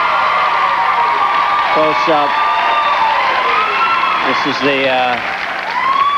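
Studio audience applauding and cheering on a 1992 talk show, a dense steady wash of clapping with whoops and shouts, while voices talk over it the whole time.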